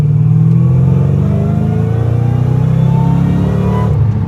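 A Roush 427R Mustang accelerates hard in second gear, its engine note climbing steadily in a loud, continuous rising roar heard from close by, with no talking.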